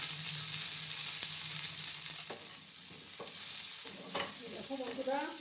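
Potato pieces frying in hot oil in a pan for a spicy Bengali potato-and-green-pea dish: a steady close sizzle, with occasional stirring clinks and scrapes.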